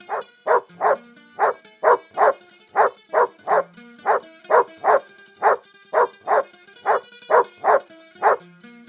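A dog in an animated Khmer folk tale barks steadily and loudly, about twenty sharp barks in a fast, fairly even rhythm with no talk over them.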